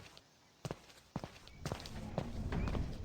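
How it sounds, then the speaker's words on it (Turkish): Footsteps in a horror video game, a few scattered steps at first, then steadier treading that builds in level toward the end, with no talk over it. "Çok fazla adım sesi geldi bana ya."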